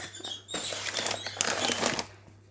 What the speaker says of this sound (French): Excusez-moi pour le bruit de mes oiseaux derrière.